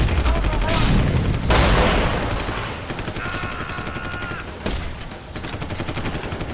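Rapid bursts of video-game gunfire and fusillades crackle through, with heavy booms and a brief electronic tone, loud and continuous.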